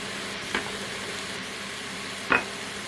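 Onions frying in a pan with chicken give a soft, steady sizzle with two brief scraping stirs, and no talking over it.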